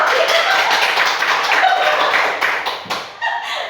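An audience of teachers claps after a classroom presentation, a loud, even patter of many hands that carries on for several seconds before thinning toward the end.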